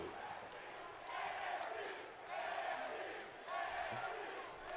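Crowd cheering and roaring from a wrestling match in the video game WWE 2K18, swelling in repeated waves of noise; someone talks over it.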